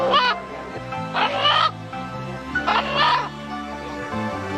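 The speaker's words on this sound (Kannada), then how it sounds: "ಜನರು ಹುಂಜ ಕೂಗುವ ರೀತಿ ಕಂಡು ಬೆಚ್ಚಿದರು" A rooster kept by a wholesale chicken and meat trader in Mahbubnagar crows loudly and close by in hoarse, drawn-out calls, heard in two separate bouts with a low droning sound running underneath.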